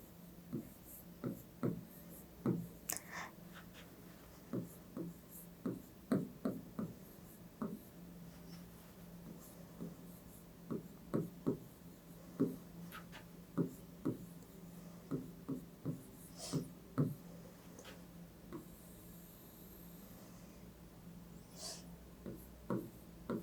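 Pen or marker writing by hand during a Class 8 maths lesson, jotting a division as a fraction: soft scratchy strokes in short irregular bursts, fairly quiet and close, with no talking.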